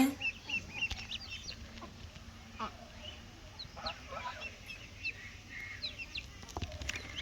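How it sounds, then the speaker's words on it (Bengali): Ducklings, including Chinese ducklings, peep and cheep repeatedly at a distance in a village over a low background rumble, soft and scattered. "এখানে ছোট ছোট কিছু হাঁসের বাচ্চা আছে ডাকতেছে"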